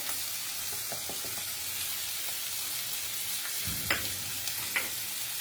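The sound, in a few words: spices and vegetables being fried and stirred in a pan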